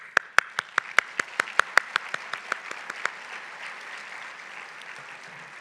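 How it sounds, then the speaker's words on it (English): An audience at a women-in-leadership awards event claps for honored companies. Sharp, distinct claps come in a quick even rhythm for about three seconds, then fade into a softer spread of scattered applause. "a huge round to applaud for these companies"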